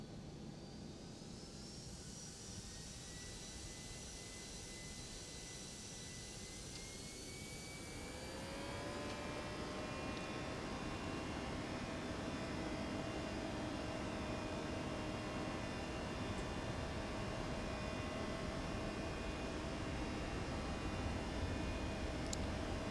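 A jet airliner's engines spool up for takeoff in the X-Plane 12 flight simulator, a rising whine that climbs partway through and then holds as a loud, steady roar.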